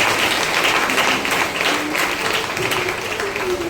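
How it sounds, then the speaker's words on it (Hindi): Loud, sustained applause from a church congregation at a Thursday worship meeting fills the whole stretch, dense and steady, with a faint voice or tone drifting underneath. "जोरदार ताली बजाए उसी में।"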